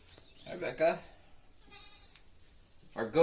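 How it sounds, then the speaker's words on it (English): A goat on a homestead bleats twice in short wavering cries, close and clear, while work on a solar installation goes on around it, with a brief noisy sound between the bleats. "Our goat supervisor is here."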